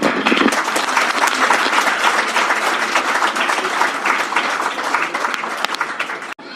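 Audience applause after a speech at a Hindi talk on calling the kitchen 'rasoi', a steady wash of many hands clapping at moderate strength that holds for several seconds before stopping abruptly.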